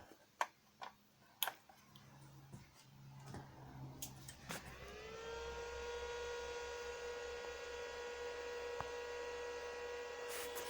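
Emerson R48-2000 power supply switched on with its cooling fan connected. A few sharp clicks come first, then a steady electrical hum and whine rise and hold at low level, with no speech.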